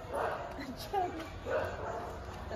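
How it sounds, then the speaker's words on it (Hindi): Several dogs bark and yip in a residential colony, the barks moderately distant and intermittent, with a person speaking faintly over quiet background noise. "कुत्ते कितने भौंक रहे हैं यार यहाँ पे"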